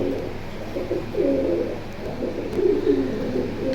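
Pigeons coo at a pigeon market in Kalendi, Keraniganj, Dhaka, with repeated soft throaty coos rising and falling in overlapping bursts close by.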